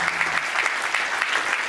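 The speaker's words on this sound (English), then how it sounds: "Please give up a round of applause for making the time to be here at GLOBSEC." Audience applause at the GLOBSEC 2020 Bratislava Forum on the Maria Theresia stage, steady dense clapping from a crowd sustained throughout, loud and close with no talk over it.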